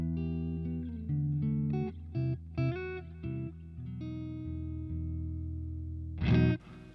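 A Telecaster on a clean tone through a Boss Katana Mk II amp rings out with sustained, separately picked notes and short chords, then ends on a brighter strummed chord, played alone.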